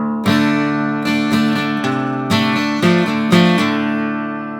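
A slowed acoustic guitar run through a pre-chorus riff, with deliberate strums and ringing single notes spaced apart, each chord decaying before the next, played alone up close.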